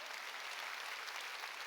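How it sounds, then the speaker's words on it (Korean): A church congregation at a Sunday worship service claps together in a brief, faint, even wash of applause, heard at a distance with no voices. "깨달은 사람만 박수 치라고요."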